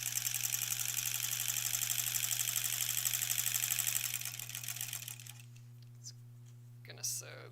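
A sewing machine stitches quilt block pieces together, a fast steady mechanical chatter over a constant low hum that runs about five seconds, then stops, leaving quiet with faint handling noises.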